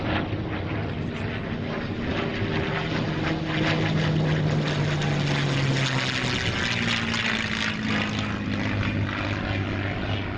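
Vintage propeller aircraft flying past at an airshow at Shuttleworth, a continuous droning engine with a slowly shifting pitch, moderately distant and steady with no talk.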